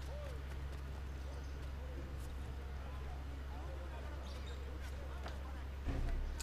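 Horse galloping in Assassin's Creed 3 on Wii U, a steady rhythmic clip-clop of hooves running throughout beneath a low constant hum, with a louder thump near the end.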